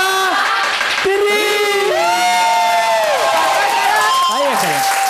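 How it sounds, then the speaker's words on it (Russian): A studio audience bursting into applause at a cooking game show: dense, close clapping mixed with loud cheering and whooping voices throughout. "на счет три мы аплодируем"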